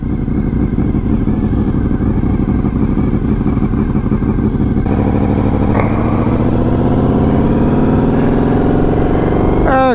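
A motorcycle rides along an open road, its engine droning steadily close by with gear changes and rising revs as it pulls forward, with no talking.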